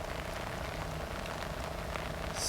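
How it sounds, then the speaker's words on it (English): Light rain falls onto the open water of MacRitchie Reservoir in Singapore, making a steady, even patter and hiss that holds level throughout with no voices. "and the rain hitting the water. Much lighter rain than it was."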